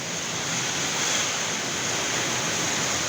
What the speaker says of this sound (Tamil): மழை, புயல் காற்று அடிக்குது பாருங்கள்.